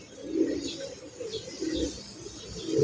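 Pigeons cooing softly inside a loft, low repeated murmuring coos overlapping with a few faint chirps, quiet and close with no voices.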